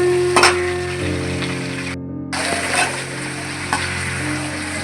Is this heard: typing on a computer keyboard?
no